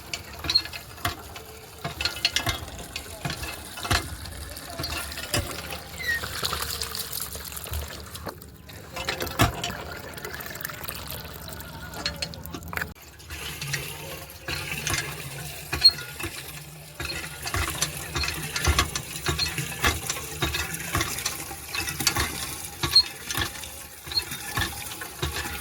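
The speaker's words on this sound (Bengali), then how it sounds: "আমাকে দিয়ে জলটা ভরিয়ে নিচ্ছে, আর ও পাম্প করছে" A hand pump is worked to fill water outdoors, giving repeated creaking, ratcheting metal strokes and splashing water in an uneven rhythm, with occasional voices nearby.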